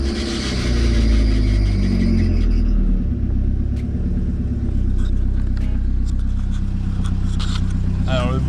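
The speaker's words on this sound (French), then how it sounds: "le bruit là, c'est la courroie d'alternateur qui est entre à changer et juste à resserrer" A BMW E30 engine runs at a loud, steady idle after starting, its worn, loose alternator belt adding a rough whine over the rumble, while someone talks over it.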